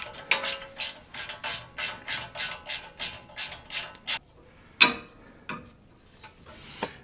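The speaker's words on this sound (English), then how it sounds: "hold it while we remove the nut right there" Ratchet clicking in a steady rapid run while loosening a sway bar end link nut on a 2nd-gen Toyota Tacoma, the link held with locking pliers; about a dozen crisp clicks, then a pause and a few isolated clicks near the end.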